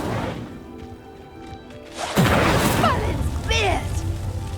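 A loud whooshing crash as the Incendio fire spell ignites a pyre in a Harry Potter video game, followed by roaring flames and sweeping magical effects, with a voice speaking just before.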